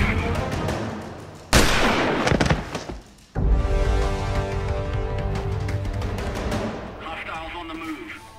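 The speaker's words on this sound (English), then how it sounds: "The shot came from that direction." Gunfire in a war-themed Mario game: a sharp, loud blast kicks in suddenly, followed after a short pause by a sustained roar of shooting and explosions mixed with voices.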